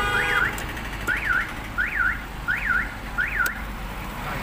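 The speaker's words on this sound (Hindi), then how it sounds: "ये इंडिकेटर पे भी बजर बजता," Indicator buzzer on a Maruti Suzuki Swift with modified wiring, five evenly spaced electronic chirps rising and falling in pitch, repeating about every 0.7 seconds over a steady low hum, no voices.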